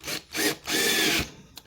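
A power drill bores into wood in a few short bursts, loud and close, with a whining grind between brief pauses.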